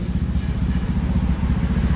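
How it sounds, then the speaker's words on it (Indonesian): A Honda Scoopy motor scooter with a custom exhaust idles steadily, close by, with a low, even throbbing putter and no voices. "baru kita hidupin unit kita dengan cara idle bro ya"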